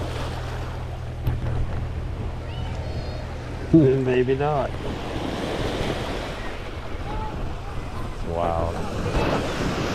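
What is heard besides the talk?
ocean waves breaking on granite boulders, Acadia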